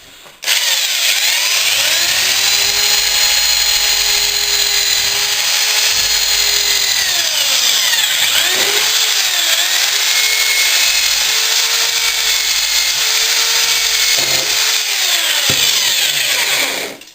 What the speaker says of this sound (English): Sometimes helps if you drill through first before you actually do your pilot.